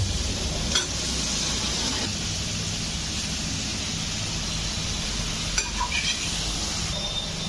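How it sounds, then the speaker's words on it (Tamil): Paneer sautéing in butter, a steady broadband sizzle filling the whole stretch at close range, with a couple of brief clinks of utensil on pan and no talking. "இப்போது பட்டரை போட்டுட்டு இந்த பன்னீரையும் நம்ம அதில் போட்டு நல்லா இந்த மாதிரி லைட் கலருக்கு வதக்கிக்கலாம்"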